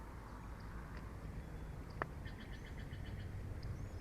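Faint, short bird-like chirps repeat in a quick series against a quiet background hiss, with one brief sharp click partway through.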